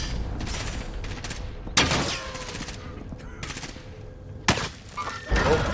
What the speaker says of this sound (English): he's getting shot at right now